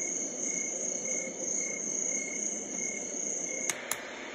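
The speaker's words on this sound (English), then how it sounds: "Summer night." Summer night setting on a Homedics SoundSleep white noise machine: steady high-pitched electronic cricket chirring over a soft noise bed, continuous and close, with two brief clicks near the end and no speech.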